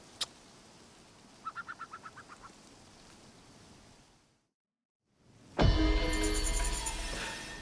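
Bird call in Assassin's Creed Origins, a quick run of about seven sharp, evenly spaced honking cries, followed by a brief silence and then a loud burst of game music and effects.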